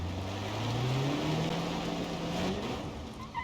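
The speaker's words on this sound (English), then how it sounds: "So I can hear the truck moving." An AI-driven truck moves in the BeamNG.drive video game, giving a steady simulated engine drone that climbs gradually in pitch. It plays close and continuous for a few seconds with no voices.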